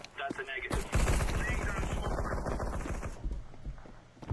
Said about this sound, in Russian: Кто по мне стреляет?